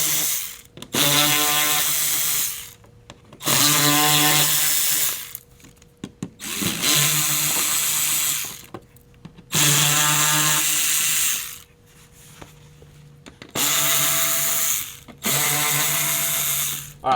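A power tool runs in six repeated bursts, each a few seconds long with short pauses between, while T15 Torx bolts come out of the fender on a Chevy ZR2 diesel truck. The whirring is close and loud, with no talk.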